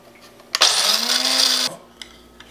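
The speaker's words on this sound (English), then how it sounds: "set the coffee grinder" A loud, steady mechanical grinding whir of a coffee grinder grinding beans starts abruptly, runs for about a second, then cuts off, with quiet clicks afterward.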